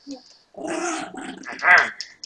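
A tiny dog growls and whimpers at close range in a short, rising burst, with a person's voice mixed in.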